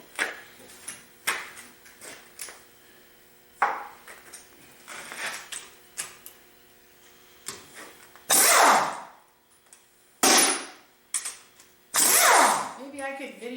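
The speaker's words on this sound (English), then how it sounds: "So back to the impact wrench." An impact wrench removes 1/2-inch 12-point cylinder head bolts. Loud, close bursts of hammering rattle come in several separate pulls, with quieter clicks and handling noises between them and a voice speaking briefly.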